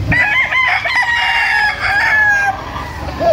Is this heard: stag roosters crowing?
yes